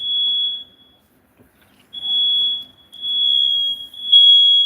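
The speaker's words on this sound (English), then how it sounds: "these fire things alarm driving me crazy" A smoke detector in a home kitchen sounds loud, high-pitched alarm tones in repeated bursts, a long beep, a pause, then further sustained beeps, with no talking over it.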